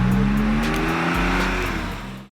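A Porsche 911S engine revs strongly and steadily up close, a loud sustained drone with a smooth rising pitch, running alone for about two seconds before it cuts off abruptly.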